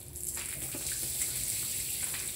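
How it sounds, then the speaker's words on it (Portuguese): Water splashing from a bucket across a freshly plastered floor, a steady wet wash and spatter for a couple of seconds, fairly faint and close. "a gente jogar a água"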